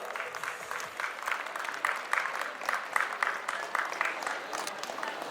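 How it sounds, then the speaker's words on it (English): Audience applause at a felicitation ceremony honouring top-achieving students, steady dense clapping from a crowd sustained throughout, moderately loud and evenly spread. "A hearty round of applause for all these top achievers"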